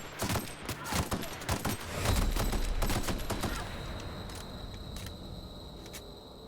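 Machine gun fire in The Outer Worlds video game: rapid, sharp bursts of gunshots crackling in quick succession, loudest early on, then thinning to scattered individual shots over a low rumble.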